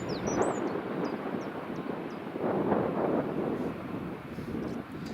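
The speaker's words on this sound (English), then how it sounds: "I was saying that he's just taxiing and holding short" A KLM airliner taxis at Edinburgh Airport with a steady, moderately loud engine roar that swells and eases, buffeted by wind on the microphone while birds chirp faintly in the background.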